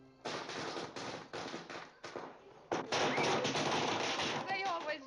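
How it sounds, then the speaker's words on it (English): Strings of firecrackers pop and crackle loudly in dense rapid bursts, stopping briefly before a louder continuous rattle, set off to welcome someone home, with voices underneath. "They always light firecrackers when I come home."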